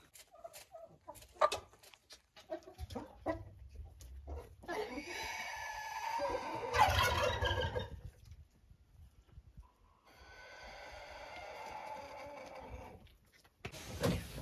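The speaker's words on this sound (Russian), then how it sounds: "Вот эта маленькая курочка." A small bantam-cross hen clucks and gabbles in short bursts nearby in a henhouse, with scattered rustling and quieter gaps between calls.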